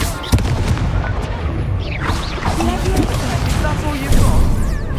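Confringo blasting spell in Hogwarts Legacy, loud booming fiery impacts and crashes amid busy combat noise, with a voice talking over the action.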